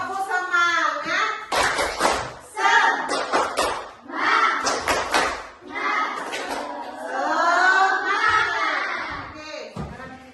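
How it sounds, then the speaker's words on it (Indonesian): A classroom spirit clap (tepuk semangat) routine: a teacher leads children through rhythmic clapping bursts interleaved with chanted voices, lively and close. "sebelum lanjut biar jangan lemas, tepuk semangatnya dulu. Tepuk semangat."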